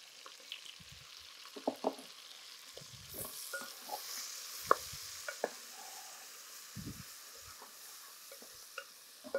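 Sliced onions sizzle in hot oil with mutton in a pan for mutton pulao. A spoon scrapes and stirs in uneven, close clacks over a soft, continuous frying hiss, with no talking.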